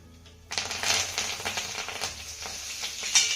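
Cumin, sesame seeds, asafoetida and curry leaves hitting hot oil in a tempering, a sudden close crackling sizzle that starts abruptly and continues with sputtering pops.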